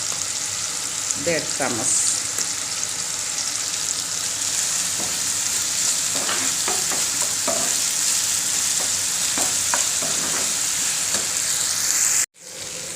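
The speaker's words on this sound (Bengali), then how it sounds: "মশলাটা তো আদা রসুন পেঁয়াজ এগুলা একটু বালা করে বাজা হয়ে গেছে" Ginger-garlic paste and onion fry in a pan with a steady close sizzle, stirred now and then with scraping clicks, while someone speaks briefly.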